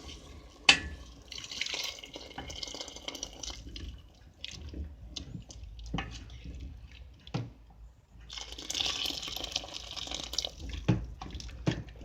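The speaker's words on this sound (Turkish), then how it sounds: "Şimdi suyunu ekliyorum." Water poured into a pot of lentil soup with celery and potato, a soft splashing trickle with scattered clinks and drips, fairly close, with a brief pause midway before the pouring resumes.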